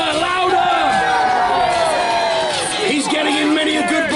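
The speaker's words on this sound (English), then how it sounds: "That's it! Cheer him on! Come on, St. George, you can do it!" A crowd cheers and shouts continuously at a jousting show at Dover Castle, loud, dense and sustained, with an announcer's voice carrying over the din.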